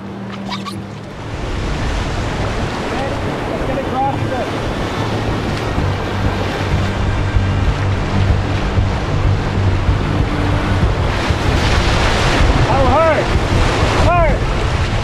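Canoe running a long set of big whitewater rapids on a Quebec river, with continuous loud rushing water and crashing waves under strong wind buffeting, splashes building toward the end.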